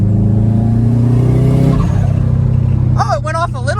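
Turbocharged truck engine revving under boost, its broken blow-off valve spring letting out a fluttering chatter; steady loud engine drone through most of the clip, then a rapid rising-and-falling flutter near the end.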